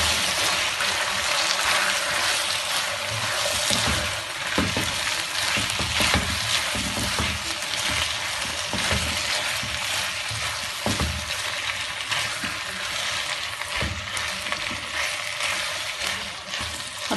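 Capsicum, green chillies and tomatoes fry in a pan for chicken jalfrezi, a loud, steady sizzle with bursts of hissing and occasional stirring clatter, no voices.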